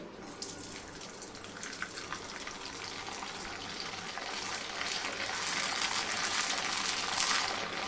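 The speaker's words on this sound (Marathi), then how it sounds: "आणखीन एक तळून दाखवते" Sabudana pheni deep-frying in hot oil, a dense crackling, bubbling sizzle that builds gradually in loudness and stays steady and close, with no speech.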